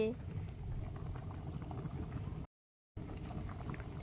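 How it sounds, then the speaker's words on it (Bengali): A pot of rice boils close by with a soft, steady bubbling and gurgling, cut by a brief dropout in the middle, and a voice is heard over it. "এই দেখো, ভাত ফুটছে, হয়ে এসছে।"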